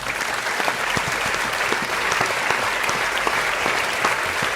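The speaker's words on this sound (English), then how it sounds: "The clap, please." A studio crowd breaks into steady, dense applause that holds at an even level for several seconds, with scattered sharp individual claps poking out of the wash.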